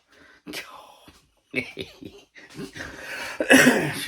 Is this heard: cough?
yes